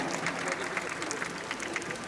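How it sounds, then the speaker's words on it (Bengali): Audience applause at an award ceremony, a steady patter of many hands clapping at a distance, fairly faint and even throughout. "হাততালি, জোরে জোরে হাততালি হবে।"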